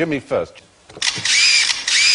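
Someone speaks briefly, then a bright, high electronic buzzing trill sounds loudly and continuously for about a second.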